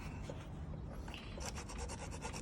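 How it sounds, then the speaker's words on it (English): A metal file scrapes across an aluminum part pulled from a scrapped microwave, a faint rasping rub that turns into a run of quick, rhythmic strokes in the second half. "We're going to check it with a file."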